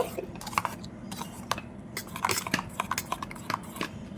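A spoon mixes a spice paste with yogurt, salt, turmeric and a little sugar in a bowl, giving faint, irregular clicks and taps over soft scraping, close by and quiet.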